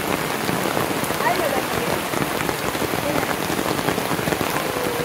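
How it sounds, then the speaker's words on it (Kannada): Heavy rain pours down in a village, a dense, steady roar of drops hitting the ground and surfaces close by, continuous and loud with no pauses. "ಜೋರು ಮಳೆ"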